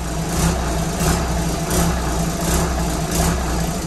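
A big diesel engine runs steadily inside an old lobster boat, a loud, close, continuous low rumble with a faint rhythmic pulse and no talking.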